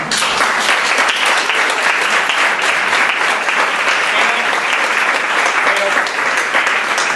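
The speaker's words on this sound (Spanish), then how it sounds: "lo que os voy a pedir al resto es que les demos un aplauso enorme" Loud, sustained applause rolls through a conference audience at a national coaching and leadership congress. The dense clapping stays strong from start to finish, with some voices mixed in beneath it.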